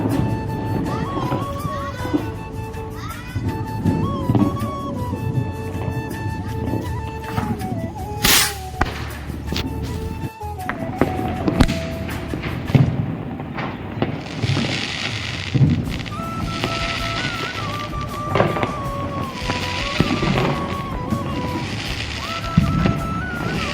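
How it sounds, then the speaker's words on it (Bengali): Firecrackers set off during a village Diwali celebration, sharp loud bangs and cracks scattered irregularly over a continuous outdoor background, some near and some more distant. "বম টম ফাটাই চলে এসেছি"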